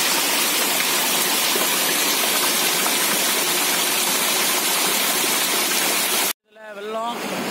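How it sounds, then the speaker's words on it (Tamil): Flooded Palar river near Ambur rushing over its banks, a loud, steady roar of torrential water that cuts off abruptly near the end, followed by a faint voice. "வெள்ளம் ஆறு கரை புரண்டு தண்ணி ஓடுது."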